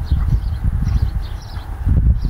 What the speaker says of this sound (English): I just wanted to show you these horses